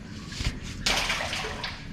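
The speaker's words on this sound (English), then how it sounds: "you can hear the water down there, much more water" A muffled rushing of water in a sewer drain starts abruptly and continues, echoing through the enclosed underground channel.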